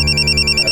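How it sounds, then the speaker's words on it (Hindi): A telephone bell rings steadily and close up, a bright repeating electronic trill filling a brief moment in an office setting, with no talk over it. "खान सर का फोन।"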